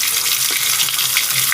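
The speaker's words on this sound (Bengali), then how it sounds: "মাছের মাথাটা ভাজা হচ্ছে" A rohu fish head fries in a pan with a steady, close, crackling sizzle that runs throughout, with no talking.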